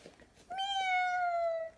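A single drawn-out cat meow, clear and near, rising then slowly falling, with faint background noise before it.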